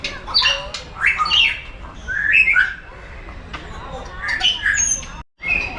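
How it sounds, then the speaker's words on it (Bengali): Several different birds squawk, whistle and chirp in overlapping bursts at Tata Steel Zoological Park, fairly close and lively, with a brief drop-out near the end. "অনেক রকমের পাখির আওয়াজ পাচ্ছে"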